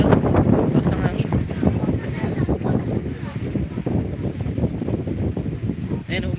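Strong wind buffets the microphone on an open boat trip at sea, a steady loud roar with low rumbling gusts throughout, mixed with water and engine noise.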